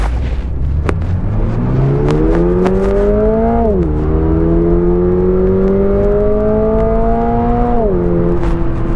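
A 2022 Toyota GR86 with an automatic transmission accelerates hard, its engine note climbing steadily through a gear, dipping at a shift, then rising again to a second peak before easing off. The engine sounds loud and close, with no talking over it.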